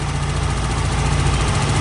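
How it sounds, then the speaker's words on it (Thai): A fuel-injected motorcycle engine runs at a steady idle during a repair session, with a close, continuous low rumble and even mechanical vibration throughout and no talk over it. "แล้วทีนี้ สตาร์ทเครื่องยนต์"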